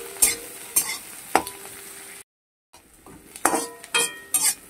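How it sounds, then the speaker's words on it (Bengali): Onions frying in a pan for a chicken offcuts dish, with a steady sizzle and repeated scrapes and clinks of a spoon stirring against the metal, cut by a short silent gap midway. "পেঁয়াজগুলোকে ভাজতে হবে।"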